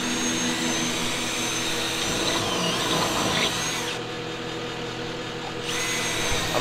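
Steady, loud whine of a power tool fastening a new piece of wood in place, running continuously and close by with a brief dip in pitch partway through.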